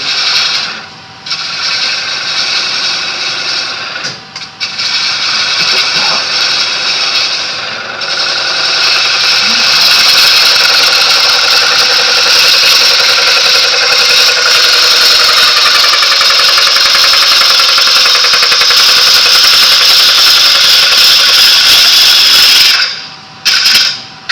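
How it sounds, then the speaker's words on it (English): A 5-inch gouge cuts into a spinning wooden pedestal dish on a lathe at a woodturning club demonstration, producing a loud, continuous hissing scrape over the motor hum, with a few brief breaks as the tool lifts. "Now, I'm using a 5-inch gouge here."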